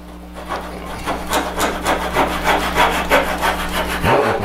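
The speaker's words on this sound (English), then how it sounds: "So, take a little saw." A small hand saw cuts through wood for a bird feeder hanger, with steady rhythmic back-and-forth strokes of about two per second, close and clear, and a short knock at the end.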